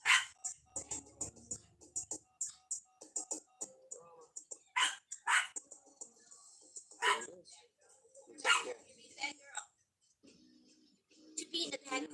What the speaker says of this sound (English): My puppy dog is barking